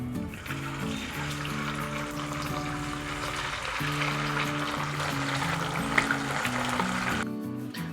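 Chicken pieces sizzle in hot refined vegetable oil for a Kerala-style restaurant chilli chicken, a steady, dense frying hiss that runs the whole time beneath background music.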